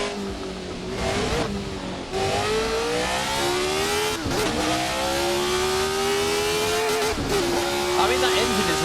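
A Formula 1 car in the Assetto Corsa racing game screams at high revs, its engine pitch climbing through gears with brief drops at shifts, loud and continuous under someone talking.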